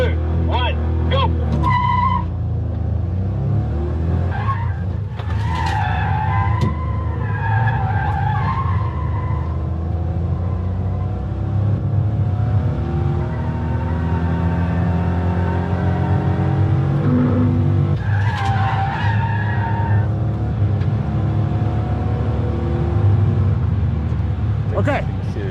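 A race car on a track laps with engine revving and tyres skidding and squealing through corners, heard as played-back footage while someone talks over much of it.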